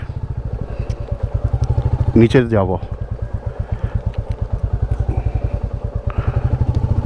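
A motorcycle engine idles with a fast, steady thumping putter, close and loud through the whole stretch, while someone speaks briefly over it near the start.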